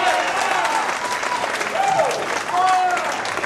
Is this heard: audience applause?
yes